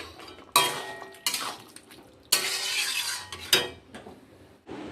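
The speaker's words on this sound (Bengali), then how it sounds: "পোস্তটা দিয়ে দিলাম, এখন একটু কাঁচা সর্ষের তেল দিয়ে নাড়িয়ে চাড়িয়ে নামাবো।" Poppy seed paste being stirred with raw mustard oil in a metal pan, heard as repeated scraping and clinking strokes of a utensil against the pan, close and loud, in irregular bursts with short pauses between.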